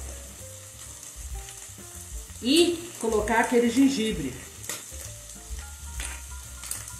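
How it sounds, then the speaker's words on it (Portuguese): Oil sizzles steadily as onion and chicken fry in a pan while a person talks over the frying, with stirring noises rising briefly in the middle. "Vou colocar essa cebola para dar uma fritadinha junto com o frango."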